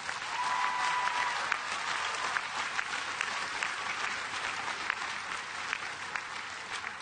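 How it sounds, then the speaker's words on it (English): A large commencement audience at a university graduation ceremony applauds steadily, with continuous dense clapping that fades only slightly toward the end. "Let's give them a round of applause."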